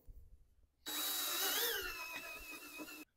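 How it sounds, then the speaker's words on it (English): A power drill whirs to life after a quiet moment, whining steadily for about two seconds as it bores into material, then stops abruptly. "I'm going to drill a little hole."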